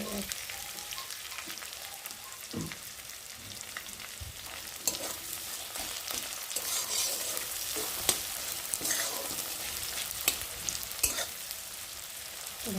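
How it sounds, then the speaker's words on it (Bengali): Onions fry in oil as a continuous, moderately quiet sizzle, with scattered spatters and the scrape and knock of stirring breaking in now and then. "ভালো করে পেঁয়াজটা ভাজা ভাজা হবে।"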